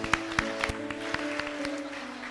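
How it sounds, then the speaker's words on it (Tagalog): A church congregation claps for the Lord in a burst of distinct, rhythmic hand claps over sustained organ or keyboard tones, gradually blending into denser applause. "Now, bigyan natin ng palakpak si Lord."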